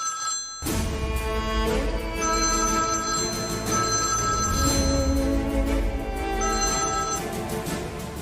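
A telephone rings during a call in a Kannada TV serial scene: a steady, loud, bell-like ringtone in repeating bursts that carries on for several seconds with no talk over it.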